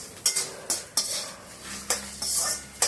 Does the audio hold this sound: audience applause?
no